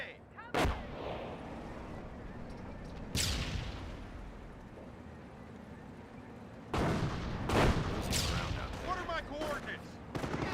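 Explosions and gunfire from a Company of Heroes battle, including a booby trap blast: several sharp loud detonations with decaying rumble over a constant background din of combat.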